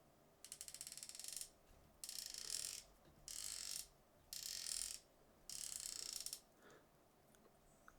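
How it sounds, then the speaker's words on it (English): The drag clicker on a Daiwa Gekkabijin Air TW PE fishing reel ratchets in five bursts of rapid, quiet clicking, each about a second long, separated by short pauses of near silence. "And the sound of the clicker is here as well, or it has a clicker if you like"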